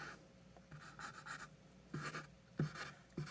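Dry erase marker scratching and squeaking across the plastic label of an NES cartridge, with short bursts of rubbing strokes, close and fairly quiet, with no talking.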